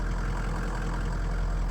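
A 2003 Ford F250 6.0 diesel pickup engine, reportedly blown, idles steadily up close, a low, even rumble with a faint knocking texture and no voices.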